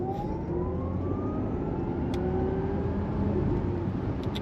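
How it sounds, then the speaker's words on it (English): An Audi e-tron GT accelerating from 0 to 60 mph in comfort mode, its electric motor whine rising steadily in pitch over a constant road and cabin rumble, heard from inside the car without talk. "that was 0 to 60 in comfort mode"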